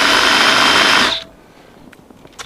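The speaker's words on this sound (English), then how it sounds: "we drilled another hole much closer to the rim of the casing" A power drill bores a hole near the rim of a well casing, a loud, steady whining grind that cuts off abruptly after about a second, leaving near silence with a few faint clicks.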